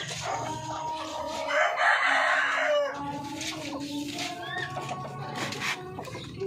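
Breeder chocolate Orpington chickens cluck nearby, and a rooster crows loudly partway through, while soft clucking and rustling continue around it.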